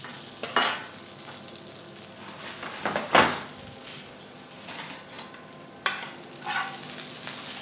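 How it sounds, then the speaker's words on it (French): Trout frying in a pan after being turned, a steady close sizzle broken by several utensil clatters and scrapes against the pan, one sharp knock standing out midway. "je retourne délicatement le poisson, juste comme ça dans la poêle"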